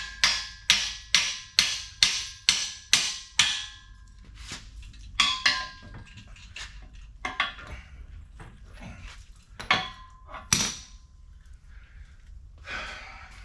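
Metal-on-metal hammer blows drive a pin out of a Strongway engine hoist: a quick run of about eight evenly spaced strikes, then scattered, lighter taps and knocks nearby.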